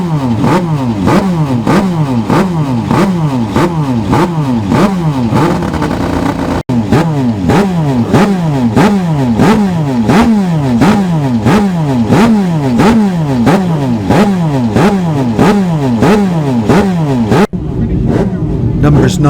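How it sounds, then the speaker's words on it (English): Norton rotary-engine classic racing motorcycles run at close range, loud and rasping, with a rapid sawtooth rise and fall as they rev over and over. The note cuts out sharply near the end. "Those two distinctive machines are of course the Whiz Nortons of Josh Brooks and Richard Wilson, the rotary machines."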